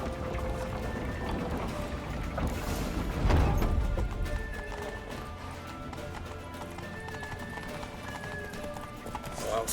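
Horses galloping in The Witcher 3, rapid clip-clop hoofbeats with a whinny, driving and continuous amid clashing and mechanical game sounds, while characters shout over the chase.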